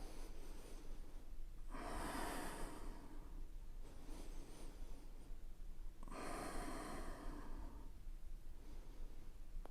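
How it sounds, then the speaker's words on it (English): Slow, deep breaths during a seated chair yoga stretch, two long airy inhale-exhale cycles about four seconds apart, quiet and close with no talking. "5 breaths here. Expand the chest with each exhale."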